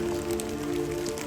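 Steady rain falls on a foggy day, a soft continuous patter with scattered drops, moderately close and unbroken throughout.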